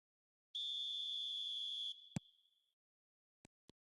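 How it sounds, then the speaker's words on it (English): Referee's whistle in an eFootball match: a single long, steady, shrill blast, followed by a few short clicks from the game, with no talk over it. "There's the whistle."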